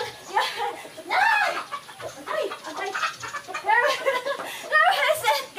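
White Leghorn chickens cluck repeatedly close by in a lively, irregular run of squawks and clucks that continues throughout.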